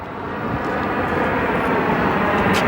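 A Boeing 737-700 arriving from Santa Ana passes with a swelling, steady jet roar that grows slightly louder and stays dense and close for the whole stretch.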